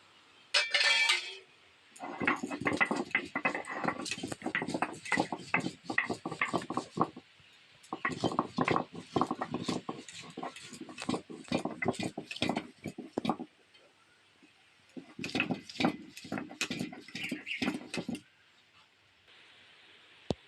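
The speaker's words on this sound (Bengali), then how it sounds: "আগে আদা আর লঙ্কাটা বেটে নেবো" Ginger and green chili being ground on a traditional grinding stone in a Bengali village kitchen, with close, rapid rhythmic scraping and knocking strokes in three long bursts separated by short pauses.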